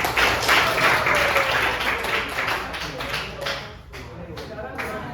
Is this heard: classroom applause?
yes